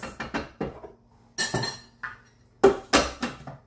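A spatula scrapes chopped onions down the inside of a Thermomix TM6 mixing bowl, making a series of short, close scraping and clinking strokes separated by brief pauses.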